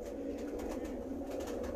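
Bakay and Ferozpuri mix breeder pigeons cooing at a Karachi loft, a steady low throaty purring coo repeating continuously, fairly close with several birds layered together and no voices.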